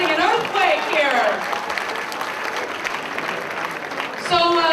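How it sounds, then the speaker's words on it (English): Audience applause at a 2006 community society gathering with a dance floor, sustained crowd clapping mixed with cheering and voices, fairly loud throughout. "Applause for causing an earthquake here."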